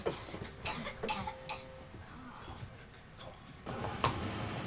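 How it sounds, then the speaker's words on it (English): A few sharp coughs near the start, then muffled background noise and shuffling with faint rustles. "I've been coughing"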